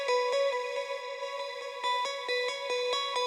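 A dry electric guitar straight from a pedal board, played with a tapping technique: bright, sustained ringing notes with crisp repeated attacks in a steady pulse, no echo tails, no voices.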